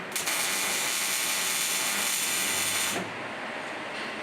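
Tools working on a hot rod's front suspension in a workshop, a steady close ratcheting, whirring mechanical noise that runs continuously for about three seconds and then eases off to a quieter hum.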